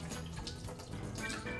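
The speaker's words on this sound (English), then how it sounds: "And I'm pouring in a little lemon juice" Lemon juice pours into a blender holding yellow and white ginger, a soft continuous liquid trickle and splash heard fairly close and faint, with no talking.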